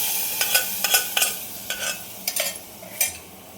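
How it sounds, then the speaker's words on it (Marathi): Cooked khatta dal being added to a pot and stirred, heard as a series of short scraping and clinking spoon strokes at an uneven rhythm, fairly close over a faint background hiss, with no talk. "मम्मी डाळ टाकून घेते."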